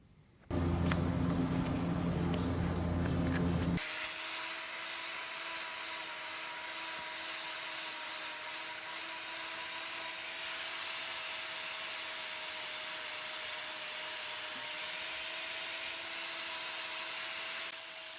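A power grinder trims an overgrown medial claw on a cow's hoof, a loud steady high-pitched whine and rasp running without a break after a brief harsher burst at the start, with no talking.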